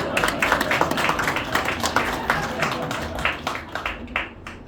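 An audience at a magic show at House of Cards in Nashville breaks into lively, dense applause with sharp individual claps, holding steady for several seconds with faint voices underneath.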